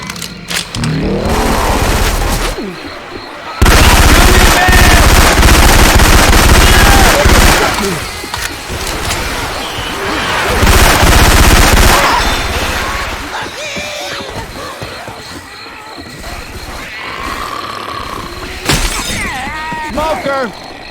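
Loud bursts of automatic gunfire and shattering impacts from Syphon Filter weapon sounds in Left 4 Dead 2, dense and chaotic, with a voice shouting between volleys and game noise running throughout.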